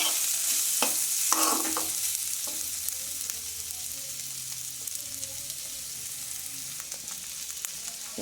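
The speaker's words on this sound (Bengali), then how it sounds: "দিয়ে একটু নেড়ে চেড়ে ভেজে নেব" Vegetables with tomato and green chili fry in a pan, a continuous bright sizzle with sharp scraping stirs near the start and scattered spatters throughout, close and alone.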